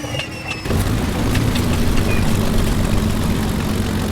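A virtual Messerschmitt BF109's inertia starter whirs up and the engine catches, a steady loud low rumble and drone taking over after a short quieter start in Microsoft Flight Simulator.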